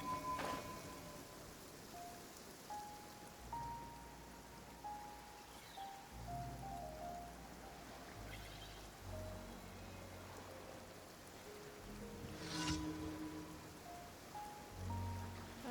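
Steady rain falls in a video game, a soft continuous patter across the whole stretch, with scattered game tones and a faint distant rumble beneath it.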